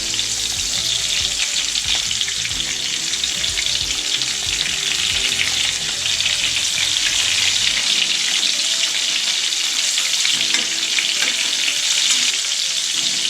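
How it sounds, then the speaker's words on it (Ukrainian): Meat rolls frying in a pan until golden brown, a loud, continuous sizzle with constant crackling spatter up close, with no talking. "Підсмажуємо ось до такої рум'яної скоринки."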